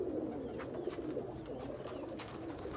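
Sialkoti pigeons coo steadily at a pigeon seller's loft in Faisalabad, a soft continuous murmuring of several birds heard close and fairly quiet throughout.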